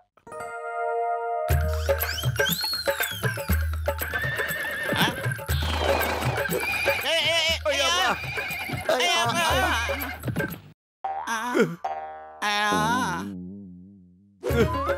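Cartoon robot horse from Motu Patlu neighs in loud, sweeping whinnies over galloping clip-clop hoofbeats, with a brief gap before more shrill neighs near the end.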